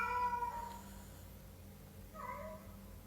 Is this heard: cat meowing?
yes